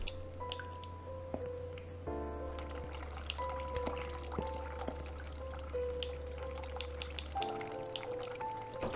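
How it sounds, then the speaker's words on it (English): Hot water running from a tap in the PC game The Cat Lady gives a soft, continuous pouring trickle, fairly faint, under a low droning tonal ambience. "From the steam of the hot water, you may have to turn the water off."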